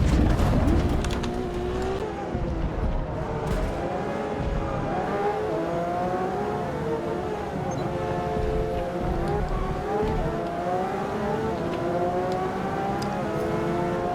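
Race car engines in the Assetto Corsa EVO racing game drone steadily and loudly throughout, with rising and falling revving tones as the cars drive on track, with no talking.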